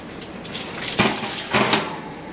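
Veggie meatballs come out of the oven with a couple of clunks of the oven door and a baking tray being handled, close and fairly soft, with no talking.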